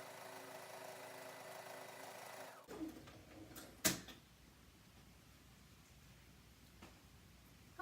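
A sewing machine runs steadily while straight-stitching the quilted seams of a Christmas stocking, then stops, followed by a couple of clunks and quiet handling noise in a still room.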